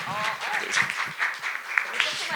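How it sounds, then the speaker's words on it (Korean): Brief audience clapping at a Korean startup meetup speech, scattered claps that rise under a speaking voice over a couple of seconds. "제가 박수 한번 부탁드리겠습니다"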